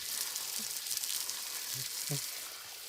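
Water sprays from a hose to wash something down, a steady broad hiss running throughout with a few faint low murmurs of a voice underneath.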